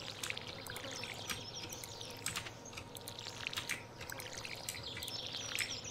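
Watering-can splashes from crop watering in the Stardew Valley farming game. A soft, continuous pouring sound plays under light chirping birdsong from the game's ambience, with no talking.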